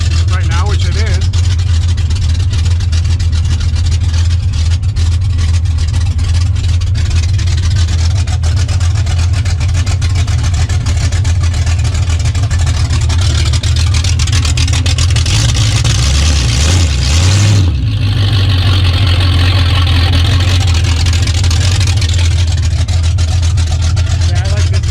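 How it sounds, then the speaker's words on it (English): A 1981 Oldsmobile Cutlass with a 455 engine idles steadily and loudly up close, a rough, labored rumble with a brief dip and stumble partway through before settling back; a voice talks over it at times. "It just sounded like a really jammed engine right now"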